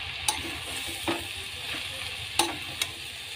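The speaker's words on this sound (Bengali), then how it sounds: "এটা হলুদ গুঁড়ো, জিরের গুঁড়ো, এই লঙ্কার গুঁড়ো, নাড়াচাড়া করে নেব একটু।" Turmeric, cumin and chili powder are stirred in a frying pan with jackfruit and prawns, a soft steady sizzle broken by a few sharp scraping clicks of the spoon against the pan, with no talking.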